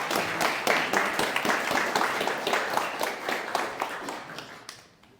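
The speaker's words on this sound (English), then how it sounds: "let's give another round of applause for Nico." Audience applause closing a Rust programming workshop talk, a crowd clapping together with sharp individual claps, loud at first and gradually tapering off to quiet at the end.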